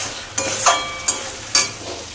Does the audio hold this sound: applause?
no